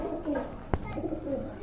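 A pair of pigeons coo close by in a loft, a soft rolling murmur repeating across the moment, broken once by a sharp tap.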